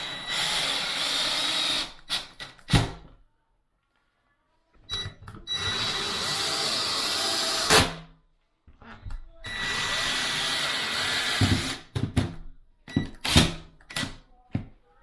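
Drill driving screws into bathroom drywall in a mobile home, with three long whirring runs, each ending in a sharp click, and brief handling knocks and rattles between them.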